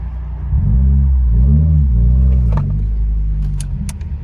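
A 2019 Subaru WRX with a Remark mid pipe and axle-back exhaust idles and revs gently, a low steady rumble that rises and falls once, with a few light metallic clinks near the end.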